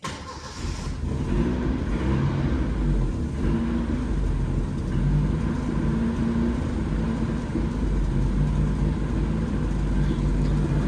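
The turbocharged engine of an abandoned Mercury Capri Turbo, left sitting for 23 years, cranks and sputters close by in a steady, rough rumble as it tries to start.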